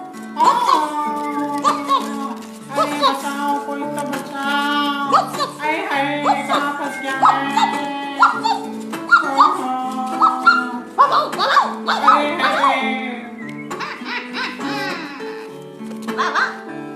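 Dog barks and whimpering from a children's story mix with giggling and laughter, loud and busy throughout, with voices woven in among the animal sounds.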